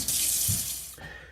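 Hot water pours from a tap over frozen prawns in a container, a brief bright rushing splash that thins out and stops after about a second.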